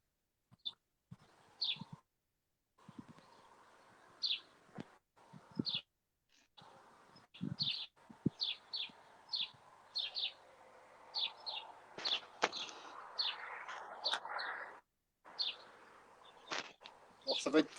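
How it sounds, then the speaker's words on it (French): Birds chirp and tweet outdoors in short, repeated high calls, faint and somewhat distant, over a quiet background with occasional low murmuring. "c'est très agréable les bruits d'oiseaux."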